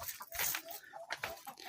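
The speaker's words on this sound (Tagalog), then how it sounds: "I will show you the chickens." Chickens cluck in a coop on a small rural farm, several short close clucks and squawks in quick succession with no talking.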